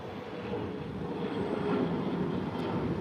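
A distant American jet rolls for takeoff at Chicago O'Hare Airport, its faint, steady engine roar swelling a little through the middle, with no voices over it.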